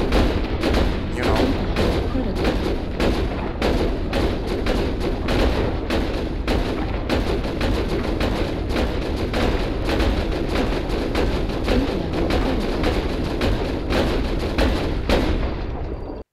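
A Marauder II mech in MechWarrior Online fires its weapons almost non-stop: a loud, rapid string of sharp, evenly spaced shots pounding on for the whole stretch with a low rumbling bed beneath.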